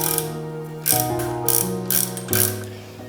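A ratchet tightens the brake caliper bracket bolts under a 29-year-old BMW, with loud close clicking strokes in several bursts and tonal, ringing metallic ratcheting between them.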